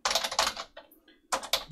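Code being typed on a computer keyboard: two quick clusters of close, crisp key clicks separated by a short pause, fairly loud with no talking.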